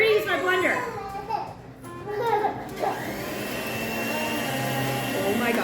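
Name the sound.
blender running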